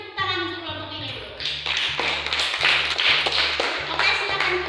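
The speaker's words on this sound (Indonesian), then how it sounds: "kita beri tepuk tangan untuk kelompok ini dulu" Children in a classroom clap in a rhythmic, patterned beat after a short moment of voices, the claps coming in regular bursts, fairly close and loud, with some talk mixed in.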